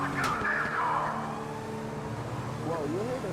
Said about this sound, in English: Whoa, you hear that sound of my car?